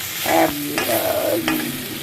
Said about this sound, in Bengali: এখন একটু ভাজা ভাজা হলো, এটা একটু ভাজা ভাজা করে নিলে ভালো লাগবে খেতে